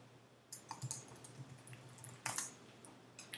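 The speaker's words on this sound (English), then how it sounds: "You gotta type in your password." A password being typed on a Mac computer keyboard, a soft, close series of light key clicks in small bursts over a quiet hum.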